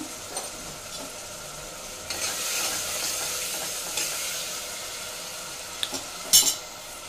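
Chopped vegetables frying in a pan get stirred as turmeric goes in, a soft sizzle that swells midway, with light spoon scrapes and a sharp clank of metal on the pan near the end.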